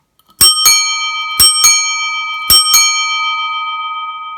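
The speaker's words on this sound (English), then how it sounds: "The Yepp bell." A Yepp bicycle bell is rung in three quick double strikes about a second apart, each ping bright and loud, with the metallic tone ringing on and slowly fading after the last pair.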